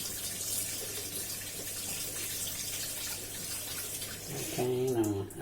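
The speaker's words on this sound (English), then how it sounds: "So I'll add some warm water as soon as it gets warm." Warm water running from a tap into a container for home wine making, a steady broadband rush throughout, with a voice briefly speaking near the end.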